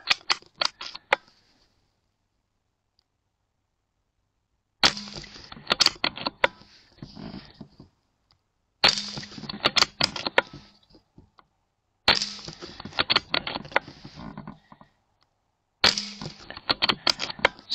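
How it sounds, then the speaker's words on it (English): Rifle shots fired during a night vision scope test come as sharp cracks in four separate bursts, each followed by a scatter of smaller clicks and rattles, with near silence between the bursts. "Just fire some more shots."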